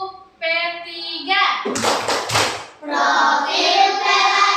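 Schoolchildren in an elementary classroom clap in rhythm with a chanted cheer, a burst of group claps mid-way between stretches of sung chanting voices.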